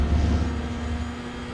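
Toyota GR86 held at full throttle on the Red Bull Ring in iRacing, a steady, loud engine drone with a strong low hum that barely changes pitch across the moment, no voices over it.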